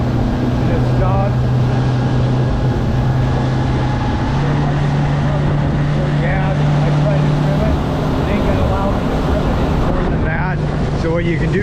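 A 2023 Smokercraft 15 Resorter boat runs under a Yamaha F50 outboard, a steady loud motor drone with water and wind noise throughout, and a voice speaking over it.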